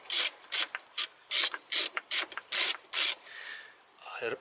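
A ratchet wrench turns to loosen a bolt on a Toyota Corolla VVT-i engine, giving close, crisp bursts of rapid clicking in about ten short strokes, with a softer rubbing sound at the end.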